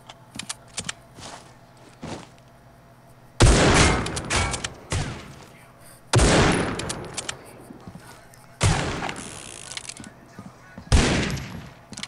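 Bursts of rapid video game gunfire hit loudly and close, in four separate volleys a few seconds apart, with quieter shuffling and muffled action in the gaps.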